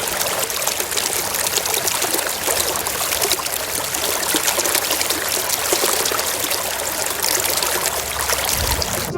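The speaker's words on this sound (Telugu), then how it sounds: "ఇక్కడ గోదావరి ప్రవహిస్తూ మన దగ్గరలో అంతర్వేది దగ్గర సముద్రంలో కలుస్తుంది." The Godavari river flowing near Razole in Konaseema, a dense continuous rush and trickle of water filling the whole scene, steady and close, with no voices.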